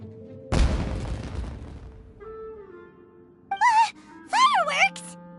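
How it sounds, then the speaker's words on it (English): Fireworks going off in a video game: one sharp, loud burst that rumbles and fades over about a second, followed by quieter game voices talking. "Was that an explosion? It sounded like fireworks."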